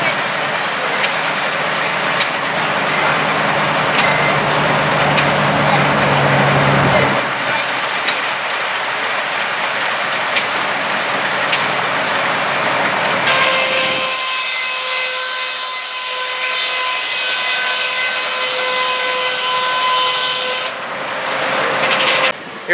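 A saw runs at the Canfield fair among vintage tractor displays, with a steady broadband mechanical whine that grows louder and harsher partway through, then cuts off near the end, while outdoor crowd noise and talk continue around it.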